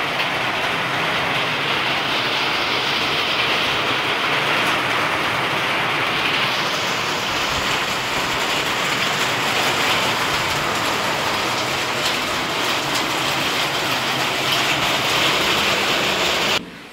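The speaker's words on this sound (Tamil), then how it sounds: "சரியான மழை பெய்யுது." Heavy rain pours down on a Wednesday late morning, a loud, steady broadband hiss that never lets up for the full length, with no voices.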